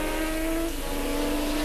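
Race cars at speed during a 1986 Swann Series race at Calder Park, with a sustained, close engine howl whose pitch dips slightly and then holds as a car works through a corner under heavy braking.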